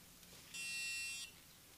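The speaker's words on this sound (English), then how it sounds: "It alerts him with a beep," A wall-proximity sensor sounds a single electronic alert beep, a steady high-pitched buzz lasting under a second against quiet background, with no talking.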